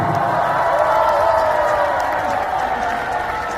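A concert crowd in Daegu applauding and cheering, dense continuous clapping with whoops that fills the hall loudly and steadily throughout.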